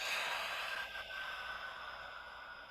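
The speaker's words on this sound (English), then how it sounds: "So how do we do ocean breath?" One long, soft, breathy exhale through an open mouth, a slow ocean-breath sigh, close and quiet and fading gradually, with no talking.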